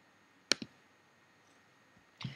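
A computer mouse clicks sharply up close, a quick double click followed a moment later by another softer click, in an otherwise quiet room with no talking.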